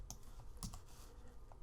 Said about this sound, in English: Hitting B on the keyboard